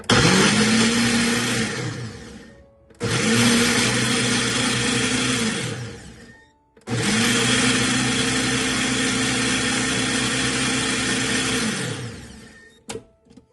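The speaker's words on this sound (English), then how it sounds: "Sometimes I just add a whole lemon into it and blend it with the ingredients" A kitchen blender whirs through a whole lemon with chaat ingredients in three loud bursts of whining motor, each slowing to a stop, with short pauses between and a final clatter.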